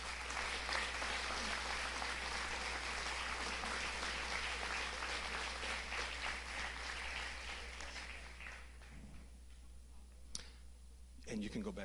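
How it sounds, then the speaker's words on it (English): Audience at a school board meeting applauds in a sustained, dense clapping that fades out toward the end, leaving a few isolated claps and a low steady hum. "let's give everyone one more round of applause"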